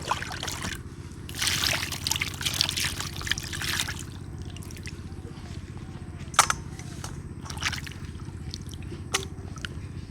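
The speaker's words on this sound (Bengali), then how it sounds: "মাছগুলো এখন ধুয়ে নেব।" Water runs and splashes over cut Ritha fish pieces being washed in a kitchen. A close, continuous trickle is broken by brisker splashing early on and by occasional sharp knocks and clicks.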